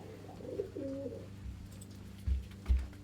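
A pigeon coos softly at close range in short, low phrases, followed by a few faint thumps and rustles in a quiet setting.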